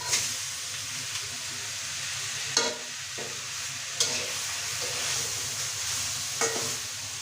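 Noodles stir-fried in a pan with fried curry spices, a steady close sizzle and hiss with occasional sharp scrapes and clinks of the utensil against the pan.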